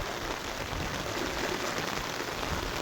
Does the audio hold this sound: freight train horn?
no